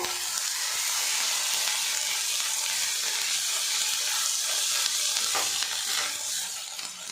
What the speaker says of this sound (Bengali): দেড় চামচ পরিমাণে আদা রসুন পেস্ট ভালো করে ভাজা ভাজা করে নেব